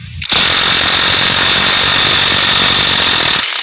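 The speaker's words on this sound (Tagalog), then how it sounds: "kailangan nyo talaga ng impact wrench" A loud, continuous pneumatic impact wrench rattles for about three seconds, loosening crankcase bolts on a Yamaha Sniper 155 motorcycle, starting abruptly and cutting off near the end with no talk over it.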